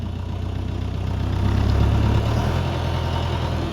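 DongFeng 404 DG2U mini tractor diesel engine running steadily in first gear with reverse engaged and front axle disengaged, a close, continuous low rumble that swells slightly midway and holds without talk.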